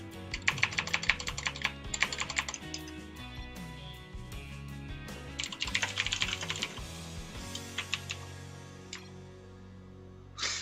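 Rapid bursts of computer keyboard typing during a live esports match broadcast, with clustered clicky keystrokes in two busy spells, heard close over a steady background bed with no talking.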